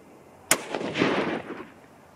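A single sharp .243 Winchester rifle shot fired at a target with a 90-grain deer hunting load, a loud crack followed by a short rumbling echo that fades over about a second.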